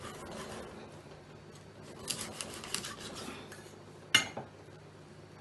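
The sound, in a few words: cutting fish in two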